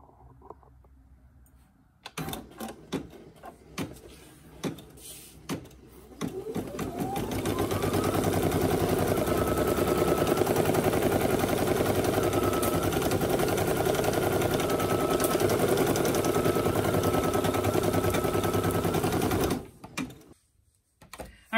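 An embroidery machine, a beginner model such as the SE1900, PE800 or PE700, stitches a placement stitch for snap tabs. A few clicks come first, then a loud, steady, fast mechanical chatter that runs for about twelve seconds before stopping.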